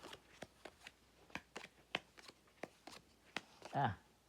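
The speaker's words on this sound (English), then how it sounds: "you're going to shuffle the deck and deal 8 cards to each player" A deck of cards riffle-shuffled in a quick, irregular series of crisp flicks, ending in a longer bridging flutter; close and moderately loud with no talking.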